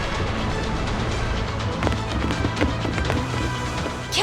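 Ship cannons fire in the video game Like a Dragon: Pirate Yakuza, a dense rumbling barrage with scattered sharp cracks and booms over constant battle noise.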